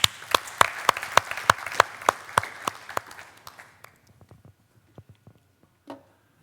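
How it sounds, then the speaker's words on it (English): A small conference audience claps to welcome a speaker at an innovation-day session: sharp, evenly spaced claps for about four seconds that thin out into a few scattered, fading claps. "Please give him a round of applause."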